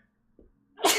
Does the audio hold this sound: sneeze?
yes